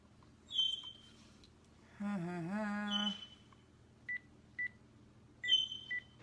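Several telephone keypad tones beep in short bursts, with a longer warbling tone in the middle, heard clearly and without talking.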